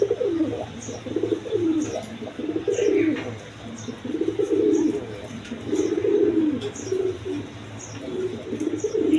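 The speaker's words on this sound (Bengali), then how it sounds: "রাজগোল্লা কবুতর আছে, দেখেন একদম বিগ সাইজের দেখার মতো কবুতর" Large Rajgolla pigeons coo in repeated rolling phrases, close and fairly loud, with faint chirps and clicks behind them.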